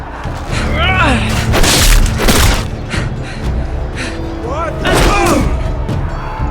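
Gunfire and heavy booms sound in the Telltale Game of Thrones game, episode Iron From Ice, as loud thuds and bursts that mix with shouting voices and gasps.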